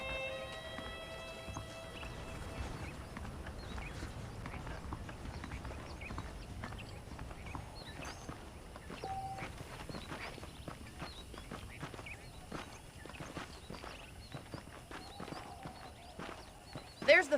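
Horse hooves clip-clop steadily at a walking pace in the Red Dead Redemption video game, a moderate rhythmic patter running throughout beneath background ambience and occasional speech.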